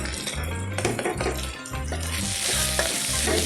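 Chilli powder sautéing for potato masala in a pan, a busy sizzle under repeated scraping and clinking of a spoon against metal, close and continuous, with no talk.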